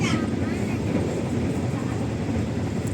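KA Majapahit economy passenger train, a New Generation trainset on the Jakarta route limited to 100 km/h, heard as a continuous low rumble with faint rail clatter from inside the carriage.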